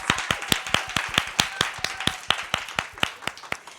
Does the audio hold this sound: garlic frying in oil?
no